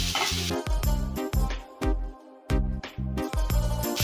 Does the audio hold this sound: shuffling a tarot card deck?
no